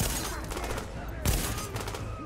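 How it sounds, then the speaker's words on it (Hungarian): Gunfire in the video game Tom Clancy's The Division, with dense, sustained volleys of shots that continue throughout and burst louder just past the midpoint. "Ez egy jó lövés volt ott az üvegen keresztül."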